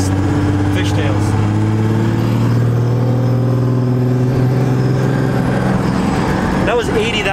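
A 12-valve Cummins diesel truck fitted with a new big turbo accelerates hard with its wheels spinning, a loud steady engine drone rising slightly in pitch and filling the whole stretch at close range.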